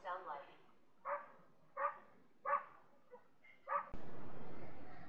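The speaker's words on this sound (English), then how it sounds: "This is what dogs sound like." A dog barks five or six times in a spaced, uneven rhythm, close and clear, before a sudden burst of noise cuts in.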